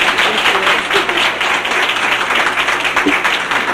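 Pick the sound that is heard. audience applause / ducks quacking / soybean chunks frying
audience applause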